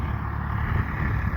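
A tractor engine runs in a freshly cut chili field, a steady low droning rumble with wind noise, heard close and continuous for a brief moment.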